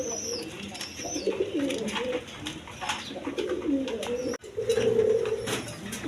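Maltese pigeons cooing close by, several soft throaty coos repeating in phrases with brief pauses, and a faint background voice.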